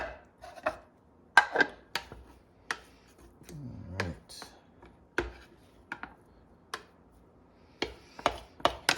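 Food being finely chopped for Ukrainian varenyky, a knife tapping a board in scattered sharp clicks, sometimes in quick pairs, with short gaps between bursts and a faint scraping partway through.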